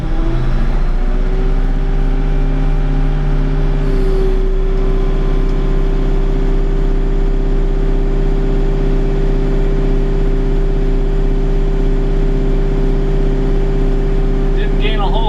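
Bobcat tractor engine with a hydraulics fault revving up to about 2,000 RPM, a loud, steady droning hum that climbs briefly at the start and then holds a constant pitch throughout, close by with no talking.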